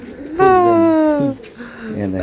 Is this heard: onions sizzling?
no